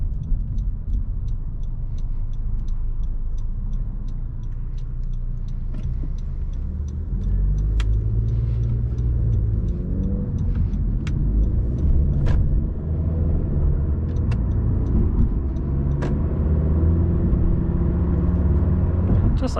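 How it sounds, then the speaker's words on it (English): A 2017 Honda Civic Coupe Touring with a 1.5 liter turbo four-cylinder engine accelerates, heard from inside as a steady low rumble that swells partway through, with a regular ticking of the turn signal. "Right turn here, and we'll see how fast the car can get up to speed."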